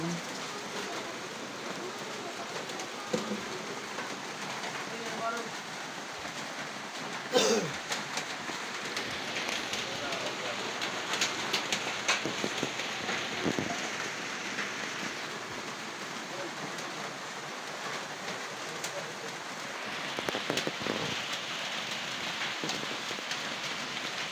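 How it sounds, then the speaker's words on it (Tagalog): Steady rain patters and hisses throughout at a moderate level, with a few brief louder knocks and no talking. "Umuulan na naman po guys."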